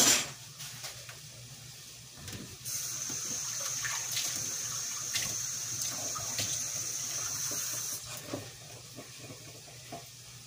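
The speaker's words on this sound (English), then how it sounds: "I'm going to have to add just a little water to this though" Water poured into a cooking pot while making shrimp tacos, a steady splashing pour lasting several seconds with faint kitchen clatter and a low hum beneath.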